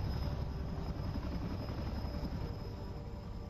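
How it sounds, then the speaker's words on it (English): A helicopter in the video game Cepheus Protocol, its rotor thrum and engine noise holding steady and fairly loud for a few seconds with no voices. "Ooh, I hear a helicopter."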